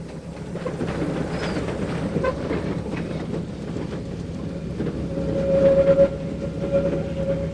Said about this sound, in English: The two locomotives made light of the gradients